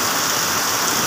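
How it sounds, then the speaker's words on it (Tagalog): Heavy tropical downpour during a thunderstorm: dense, loud, steady hiss of rain pounding surfaces up close, continuous and unbroken. "Napakalakas ng ulan niyan."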